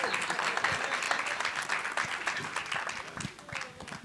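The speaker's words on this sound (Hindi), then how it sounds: "एक बार ताली बजाइए ना आप।" Audience applause at a film trailer launch welcoming a guest onstage, dense steady clapping for about four seconds with talk over it, easing slightly near the end.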